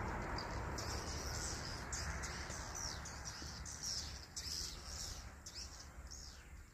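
Dense, rapid chirping and twittering of many swiftlets echoing together inside a swiftlet bird house, continuous and fairly loud throughout.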